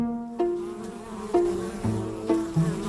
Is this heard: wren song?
no